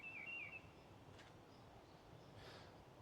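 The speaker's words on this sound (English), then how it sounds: "we got the missel thrush singing in the background" A mistle thrush sings a few faint, wavering whistled phrases at a distance over a low steady outdoor hum, then fades into quiet background.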